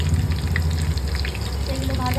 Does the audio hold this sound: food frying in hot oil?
yes